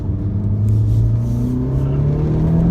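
Honda V-Tec race car at Cadwell Park, a close engine note that climbs steadily in pitch as it revs, with a rumbling low end and some whirring, no voices.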